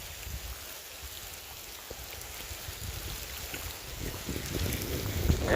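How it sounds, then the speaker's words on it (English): Steady rain falls outdoors beside a trout stream, a dense, even hiss of drops on surfaces that swells slightly louder toward the end, heard alone without talk. "It's raining pretty good."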